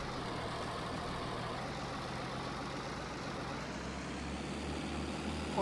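A Valmet tractor engine in Farming Simulator 19 runs with a steady low drone and rumble, holding an even level throughout with no talk over it.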